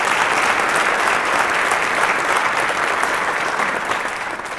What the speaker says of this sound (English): I'd like to have everyone here help me give you a round of applause